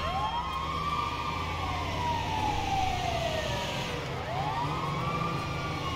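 A wailing ambulance siren in the video game GTA 5 sweeps up and down continuously, fairly loud and close, over a steady engine rumble.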